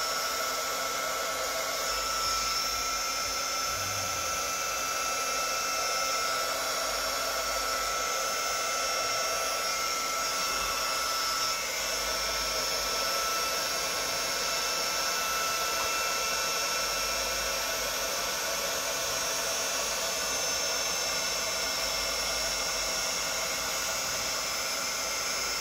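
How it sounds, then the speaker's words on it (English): A heat gun blowing steadily on colorful epoxy resin for a galaxy pour, giving a continuous, fairly loud broadband rush of airflow with a constant motor hum throughout, without pauses or speech. "I do wish this heat gun had a little more push to it."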